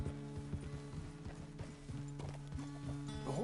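Horse hooves clip-clopping in Red Dead Redemption 2, a quick steady rhythm of close hoofbeats at a trot under soft background game music.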